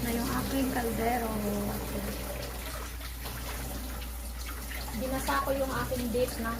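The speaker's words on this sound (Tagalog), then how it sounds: "Binasa ko yung aking beef ng mainit na tubig para mawala yung ice niya" Hot water runs and splashes over beef in a home kitchen to thaw off its ice, a steady watery rush near the mic that briefly eases midway, with faint background voices.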